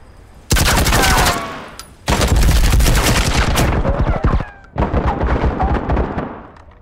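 Bursts of rapid gunfire in the VR shooter Firewall Zero Hour, three long loud volleys of sustained automatic fire separated by short gaps, close and dense.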